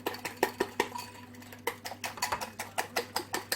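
A utensil briskly beats free-range eggs in a bowl, with rapid rhythmic clinks and taps, close and fairly loud, continuing without pause and with no talking.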